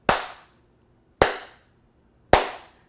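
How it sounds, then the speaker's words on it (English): Three sharp, loud hand claps spaced about a second apart, each a crisp broadband snap with a short decaying tail, made on a set where recording has just started so the claps can line up sound and picture. "What I do once everything is rolling is I make sure to clap 3 times."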